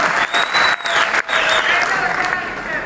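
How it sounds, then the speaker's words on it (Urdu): Audience applause at a poetry recital, a loud sustained burst of crowd clapping with brief dips, a voice faintly audible beneath it. "بجا دیجیے تالی"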